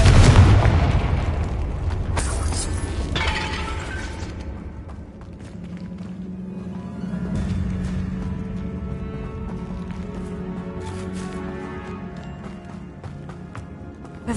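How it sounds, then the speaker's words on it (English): A Confringo fire spell in Hogwarts Legacy lands with a heavy, booming explosion at the start, followed by a long rumbling tail and sharper crackles and blasts, loud and dense throughout. "Confringo."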